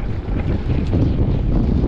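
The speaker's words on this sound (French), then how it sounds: "j'ai changé de direction et j'ai le vent en pleine gueule" Strong headwind on a mountain bike ride, a loud, constant roaring rush of wind buffeting the microphone close up, with no talk.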